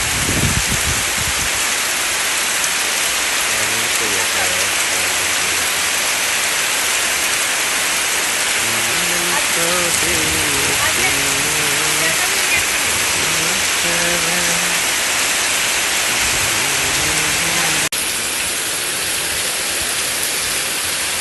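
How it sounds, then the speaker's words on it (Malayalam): Heavy summer rain pours down steadily in a dense, continuous hiss with no break, loud and close, while faint low voices murmur underneath in places. "വേനൽ മഴ പെയ്യുകയാണ് മക്കളെ"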